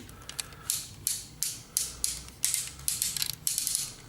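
A series of small, sharp ratcheting clicks from a metal-weighted FT-04 Iron Dibot Scoria figure joint, roughly a dozen in uneven bursts, close and fairly quiet with no talking.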